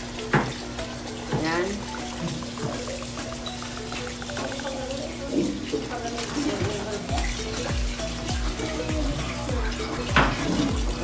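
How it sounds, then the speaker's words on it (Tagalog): Salted napa cabbage is rinsed under running water for homemade kimchi, a steady stream splashing into a basin with leaves handled and squeezed, as people talk throughout. "hugasan natin siya mabuti na para hindi siya maalat"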